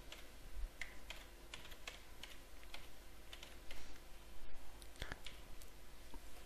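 Typing on a computer keyboard while entering domain credentials, a quiet run of scattered key clicks at an uneven pace over a low background hum.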